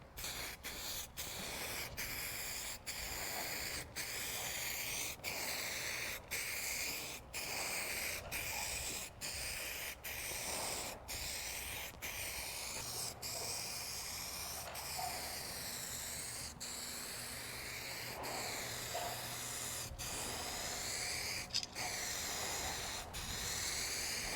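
Spray can paint being applied in slow, close passes to a car panel in a backyard paint job, a steady hiss broken by brief regular gaps between passes, continuous and fairly even, with no talking.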